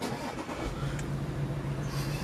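An Audi SQ5 starts by push button. The close engine catches and settles into a steady low idle.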